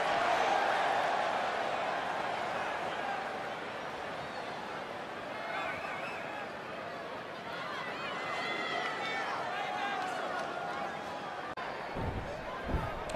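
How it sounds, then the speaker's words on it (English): A lively wrestling arena crowd at a WWE NXT show in Orlando fills the space with a steady wash of cheering and chatter, holding at a constant level throughout, with a sharp bang near the end. "We've got an animated crowd here tonight, as we usually do when we're in Orlando."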